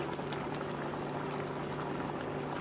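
Rajma kidney beans boil in a pot, a steady, dense bubbling and simmering with a constant low hum, moderately close and uninterrupted.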